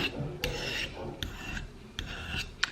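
Blade of a CSGO replica knife drawn across a sharpening stone in several short, rasping strokes with brief pauses between them, close and clear with no talking.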